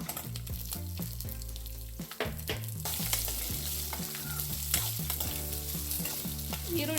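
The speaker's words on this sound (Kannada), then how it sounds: "ಹಸಿರು ಮೆಣಸಿನ್ಕಾಯಿ ಫ್ರೈ ಮಾಡ್ತಿದ್ದೀವಿ." Garlic, green chillies and onion frying in a pan for a chicken liver gravy, a continuous sizzle beneath loud background music, with occasional scrapes of stirring.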